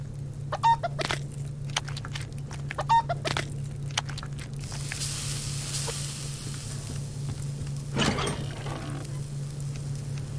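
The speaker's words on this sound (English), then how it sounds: "Just cook up some dinner." Food cooking over a fire in a survival video game, a faint continuous sizzle under a low steady hum with a few clicks and soft thuds.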